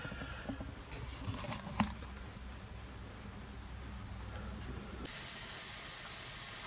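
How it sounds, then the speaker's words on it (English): A Mamod SL1 live steam model locomotive running, giving a steady soft hiss of steam from the chimney with a faint rushing texture and a brief clink, continuous and fairly close, growing brighter near the end. "show the steam backlit so you can really see it coming out of the chimney"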